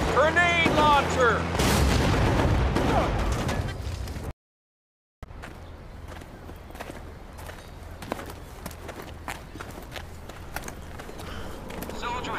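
Gunfire and grenade launcher explosions in Battlefield Bad Company, bursts of shots and booms mixed with footsteps and game voices, loud at first, then a brief silence and a busier, more scattered stretch of fire.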